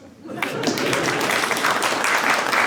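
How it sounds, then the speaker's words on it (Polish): Stand-up comedy audience breaks into sustained applause after a short quiet start, dense steady clapping filling the room with a few cheers mixed in. "Można klaskać."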